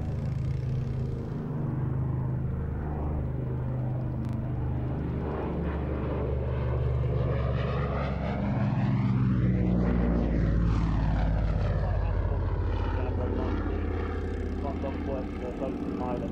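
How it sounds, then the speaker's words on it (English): Propeller aircraft flying a display for the Shuttleworth Collection, its engine drone rising as it approaches and then sweeping down in pitch as it passes close overhead before fading, with a voice talking over it. "Flying the aircraft for us today"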